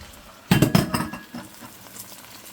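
Meat dropped into a hot pan with sautéed onion, garlic and ginger, a short loud burst of sizzling and clinking utensil contact that quickly settles to a quieter frying hiss.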